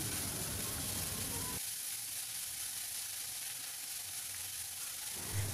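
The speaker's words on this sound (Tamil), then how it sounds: "வெங்காயம் கொஞ்சம் வதங்கட்டும், அது வரைக்கும் நல்லா வதக்கிக்கலாம்." Chopped onions for a stuffing sauté in a pan, giving a soft, steady sizzle with a brief quieter stretch in the middle, stirred now and then and fairly faint.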